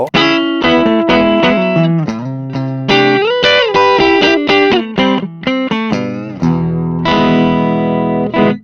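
Electric guitar played through Catalinbread effect pedals, distorted and chorused, with a string of plucked notes and chords, sliding bends and sustained ringing tones, loud and alone without talk.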